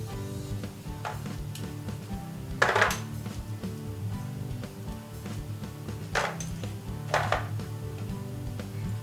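Chestnuts scored with a knife before oven roasting: a few sharp cuts and taps against a board stand out over a steady tonal background, with no talk.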